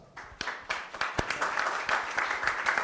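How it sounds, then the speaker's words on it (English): An audience at a venture capital panel evening starts clapping, scattered sharp claps at first building quickly into fuller, steady applause. "Applause."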